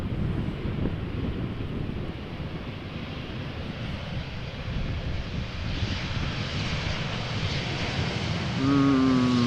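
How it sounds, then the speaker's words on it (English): A KLM airliner in a special chocolate livery arrives at Amsterdam Schiphol Airport in gusty crosswind from Glasgow, its engines a steady broad roar under heavy wind buffeting, with a rising whine near the end. "flying as KLM flight 1474, arriving from Glasgow."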